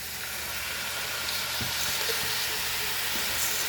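Rice frying in a pan for Goan choris sausage pulao gives a steady, close sizzle throughout, with a few soft stirring scrapes partway through.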